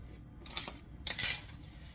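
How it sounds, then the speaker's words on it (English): A kitchen knife set down on a counter while preparing pepper-encrusted salmon with green sauce gives a couple of brief, light metallic clinks about half a second apart. "Put the knife back here"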